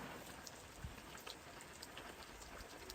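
Rain falls steadily outdoors on a farm, a continuous soft patter of drops with a few brief louder splashes, fairly close and with no voices.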